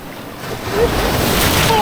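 Sea waves and a strong current roll in steadily at a beach in Puerto Princesa, a continuous loud wash of surf with wind buffeting the microphone.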